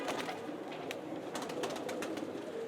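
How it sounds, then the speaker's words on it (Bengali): High flyer pigeons at a crowded pigeon fair give low, muffled cooing under steady noise from the surroundings, with a few sharper chirps and rustles near the microphone. "মাশাল্লাহ, একটা হাই ফ্লায়ার কবুতর"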